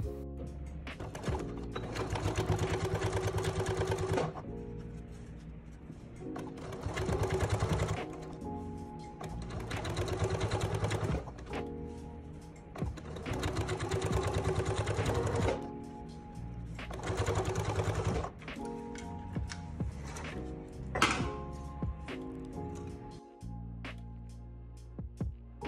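A sewing machine topstitches a facing close to the seam allowance on fabric trousers, running in repeated bursts of rapid mechanical whirring separated by short pauses, with fainter, shorter stitching runs toward the end.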